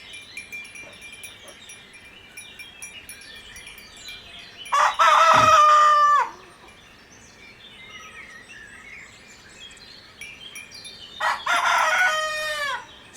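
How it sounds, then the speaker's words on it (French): Roosters crow in two loud, separate bursts, each several seconds long and close by, between quieter outdoor background and faint birdsong on a French smallholding where three cockerels compete. "j'ai 3 coqs qui se font concurrence, ils n'arrêtent pas de chanter."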